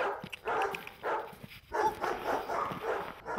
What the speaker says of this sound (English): They remembered dogs.